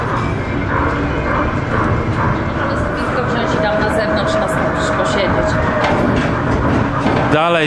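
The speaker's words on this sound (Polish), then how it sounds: "Dalej jadę po Krośnie kolejką turystyczną." Rumbling, rattling ride on a small wheeled tourist road train through the streets of Krosno, Poland, with steady mechanical clatter and people talking throughout.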